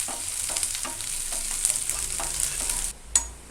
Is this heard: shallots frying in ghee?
yes